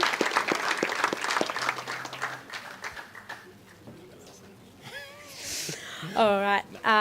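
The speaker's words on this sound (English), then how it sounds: "We'll have another round of applause for both these umpires." Audience at an AFL South East umpires' presentation night claps for a few seconds, the applause thinning out, followed by voices and other room sounds.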